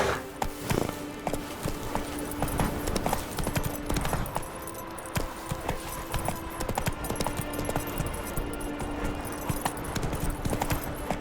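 Horse hooves clip-clopping in The Witcher 3: Wild Hunt, a steady rhythmic trot of hoofbeats running throughout at moderate volume over a low game soundscape.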